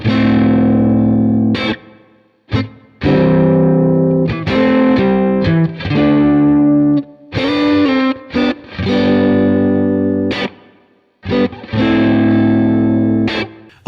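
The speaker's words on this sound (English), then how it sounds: "so that's ToneX. It's this highly accurate capture software that is really good" Electric guitar played through an IK Multimedia ToneX pedal running amp captures, a heavily distorted tone in chugging chords and bursts separated by short silences, loud and up front.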